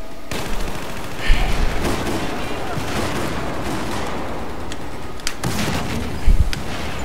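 Gunfire in the Battlefield 4 multiplayer video game, with bursts of rifle shots and deeper booms scattered across a constant noisy battle bed, two heavier thuds standing out near the middle and end.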